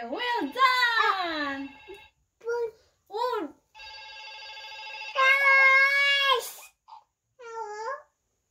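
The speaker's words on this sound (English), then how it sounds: "Answer the phone." A telephone rings in a children's nursery rhyme song, a buzzy electronic trill heard twice between bursts of singing and child-like voices.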